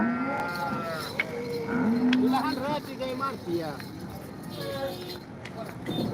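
Cattle moo several times, loud and drawn out, at the Modnimb cattle market in Maharashtra, while people talk nearby against a busy outdoor background.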